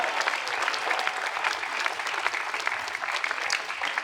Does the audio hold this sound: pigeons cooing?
no